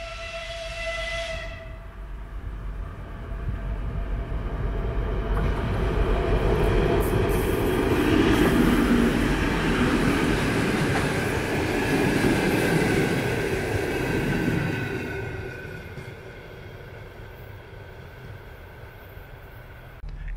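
A diesel locomotive hauling a two-car suburban passenger train (Dno–Pskov service) approaches and passes near Pskov: a swelling low engine rumble and wheel noise build to a loud peak mid-clip, then recede into a quieter idle drone.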